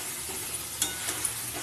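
Onions already fried being stirred with a homemade spice mix in hot oil for a potato and chicken curry, a steady close sizzle with soft scraping stir strokes and a few light clinks.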